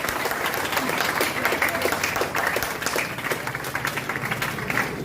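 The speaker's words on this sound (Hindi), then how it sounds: "स्वाति के लिए भी जोरदार ताली बनती है।" Audience at a class toppers' award ceremony applauding a student, heard as dense, sustained clapping from many hands at steady volume throughout, with faint voices underneath.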